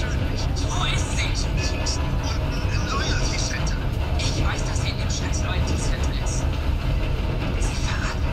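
A stolen train running in Red Dead Redemption 2, a steady loud rumble of wheels and engine throughout with clattering and hissing over it, while someone talks over the noise.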